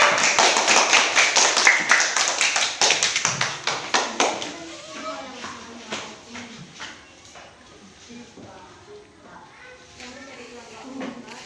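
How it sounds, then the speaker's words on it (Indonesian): Classroom applause for a student group in a fifth-grade Islamic studies lesson, a burst of many hands clapping loudly at first, then thinning out and fading as murmuring voices and shuffling continue underneath. "Tepuk tangan untuk kelompok 4"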